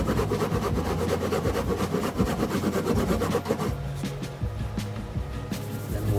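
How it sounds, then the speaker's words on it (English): A block sander works over a flat patch of a 1981 Pearson 424 ketch sailboat hull, giving a steady, loud, gritty rubbing that runs continuously, then thins slightly near the end. "I'm going to hit it with the block sander"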